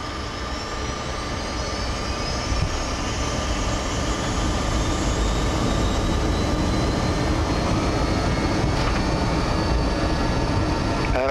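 An Albanian Airlines BAe 146-300 jet on its takeoff roll: steady, loud engine roar with whining tones that climb in pitch as the engines spool up, and no voices.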